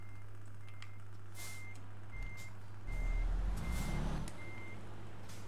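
A Mercedes truck in Euro Truck Simulator runs with a steady low engine hum while a reversing beeper chirps in a regular rhythm, and a couple of short air hisses break in midway. The sound is quiet and clean, with no talking.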